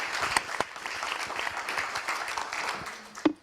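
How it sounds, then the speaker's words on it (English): An online and in-person audience at a virtual roundtable panel event gives steady applause lasting several seconds, with dense clapping that fades toward the end, broken by a louder bump near the close. "Can you give a round of applause to my online and in-person audience?"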